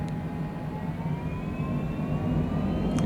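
A small aircraft's engine holds a steady, loud drone with rising tones as it builds power on the takeoff roll from Wilmington, Delaware, bound for Trenton, with no voices over it.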